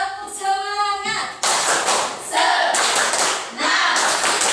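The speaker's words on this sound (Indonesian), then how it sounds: "kita tepuk semangat dulu ya" A class claps a rhythmic cheer together, following a chanted voice at the start with loud, fast bursts of group clapping that come in several close rounds.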